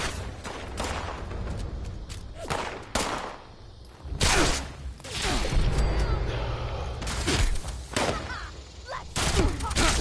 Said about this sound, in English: Just got here and I'm already getting shot at.